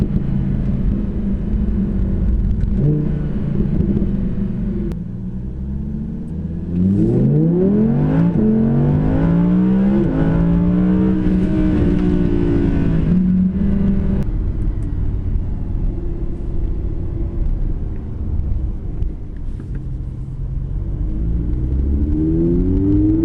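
An Audi R8 V10 Plus on the road, its engine rumbling loudly from inside the car and rising in pitch through repeated acceleration pulls, easing off between them, with no talk over it.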